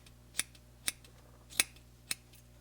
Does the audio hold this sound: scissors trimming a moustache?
yes